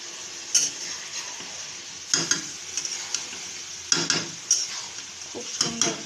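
Chicken pieces sizzle in a hot pan while a utensil stirs and scrapes against the metal in several sharp bursts, the frying hiss steady underneath.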